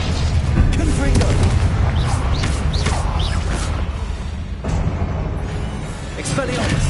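Booming spell blasts and bursts from the video game Hogwarts Legacy, loud and dense, layered over a constant roar of game effects and music with sweeping tones.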